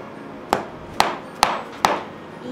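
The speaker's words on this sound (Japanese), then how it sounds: "こんな感じでしっかり押さえて、はい、斜めにならないようにハンマーで いきます。" A hammer strikes a hole punch through leather, four sharp, evenly spaced knocks about half a second apart, close and clear with no talking, during a leather pen case craft project.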